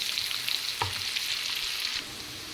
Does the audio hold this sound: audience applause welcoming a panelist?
no